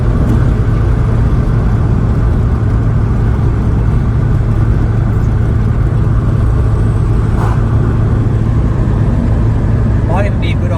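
A Subaru Impreza 22B STi drives uphill in fourth gear, its engine giving a steady, loud drone with road noise from inside the cabin, while a voice speaks over it.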